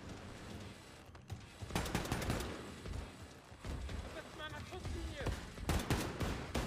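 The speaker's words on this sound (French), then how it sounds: "Ah il y a des balles." Gunfire crackles through a firefight in Wolfenstein II: The Freedom Chronicles DLC: scattered shots, then dense bursts around the second and final seconds, over a murky combat din.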